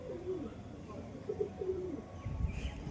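Pigeons cooing at a home loft, soft repeated low coos close by over a steady ambient murmur, with a brief rustle near the end.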